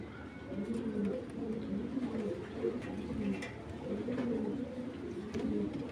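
Iranian racer pigeons coo close by in a steady run of low, repeated rolling calls, with faint background voices.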